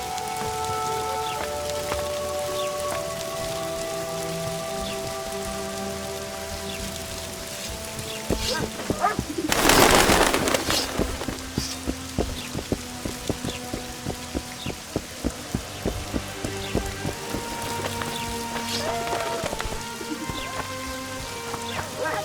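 Steady rain from The Witcher 2 hisses continuously across the whole span, with a louder burst of heavier downpour near the middle, under background game music and effects.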